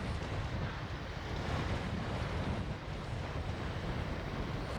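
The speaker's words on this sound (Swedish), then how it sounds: "Det blåser bra nu alltså." Strong wind by the sea near cormorants, buffeting and rushing continuously with a surf-like roar and microphone rumble, steady and fairly loud throughout, no talking.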